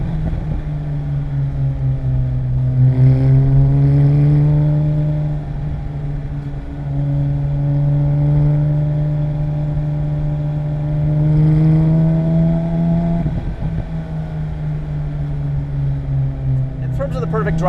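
A 2007 Porsche GT3 RS engine pulls hard and loud while driving, its steady drone rising in pitch through two long sweeps under continuous cabin road noise, with a person talking over it.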